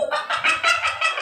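A voice imitates a monkey, giving a short burst of repeated high, chattering calls, close and fairly loud, with no other talk.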